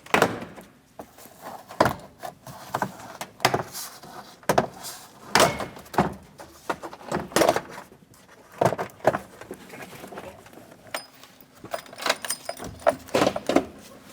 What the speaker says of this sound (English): grab the side and pull straight back, and you're going to hear the clips disengage